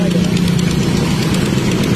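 A Rusi Turbo motorcycle engine idles close by with a steady, dense drone, fitted with a carburetor and hose feeding a turbo toward the exhaust, running continuously without a break.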